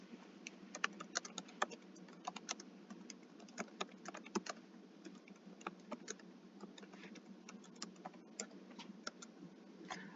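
Computer keyboard typing during a biochemistry lecture, a steady run of quick, irregular key clicks lasting throughout, close and moderately loud, with no voices.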